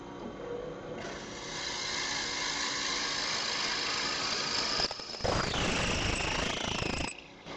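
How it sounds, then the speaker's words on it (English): A power drill whines steadily for several seconds while drilling a hole down through wood, then its pitch shifts and strains as the bit bites deeper, stopping abruptly near the end. "let's just drill a hole down through here"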